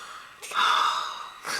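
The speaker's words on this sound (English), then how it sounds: "I will yawn for that." A single breathy, drawn-out yawn close to the microphone, followed by a short exhale.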